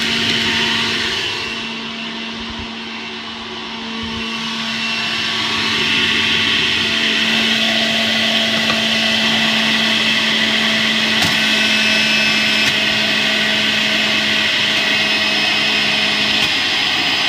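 A slow juicer grinds apples with a steady, loud mechanical whir and a constant motor hum, easing briefly around two to four seconds before holding steady to the end, with no talking.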